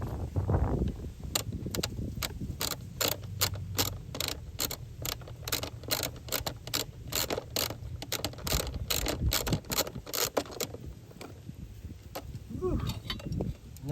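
A ratchet clicks rapidly while bolts are removed from the shield of a Yamaha SHO 250HP outboard, with steady close clicking through most of the clip over low background rumble.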